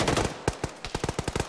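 Video game machine-gun fire pours onto enemy bunkers during a ShackTac assault: a short rattling stream of close, punchy shots, then rapid separate bursts in a quickening rhythm.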